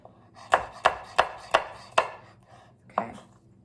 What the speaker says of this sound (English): we're just gonna cut these into strips